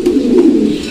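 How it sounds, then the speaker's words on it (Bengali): A pair of Maltese pigeons gives a brief, close, low throaty coo. "এখানে এক জোড়া মাল্টেস কবুতর আছে"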